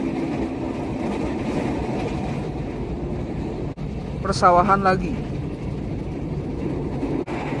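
A KRL commuter train on the Jogja–Solo line runs with a steady rumble and occasional clatter, while a passing long-distance train adds a brief rising whine; a voice speaks over the ride.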